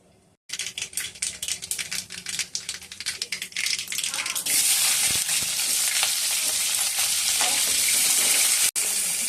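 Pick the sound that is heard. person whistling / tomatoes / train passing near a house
tomatoes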